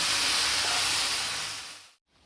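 Okra (bhindi) frying in a pan over a medium flame, a steady loud sizzling hiss that fades out near the end, briefly drops to silence, then softly resumes.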